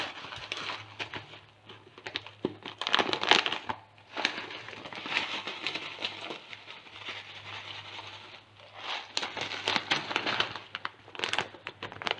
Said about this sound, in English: I'll add little sev to it.